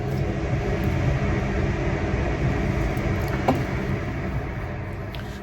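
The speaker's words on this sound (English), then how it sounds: "It's a train." A passing train rumbles steadily at a distance, a broad continuous roar that holds level throughout with no voices.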